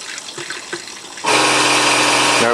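A Floë Induratec caravan water pump switches on abruptly after quiet handling sounds, then runs with a steady loud hum while water flows continuously; no speech.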